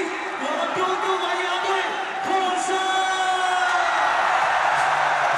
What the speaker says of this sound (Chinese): 掌声送给我们的球队